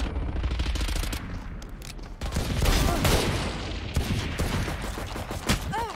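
Video game gunfire comes as dense, rapid volleys of shots with booming bursts, loud and close for the whole stretch.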